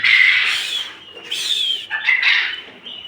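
Quails on a farm calling excitedly for feed, with close, loud, shrill chirps and squawks in overlapping bursts over a few seconds.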